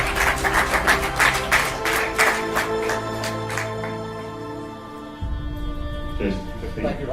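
A seminar audience in London gives a brief round of applause with scattered loud claps and a few cheers, fading after a few seconds as a speaker's amplified voice and room sounds take over.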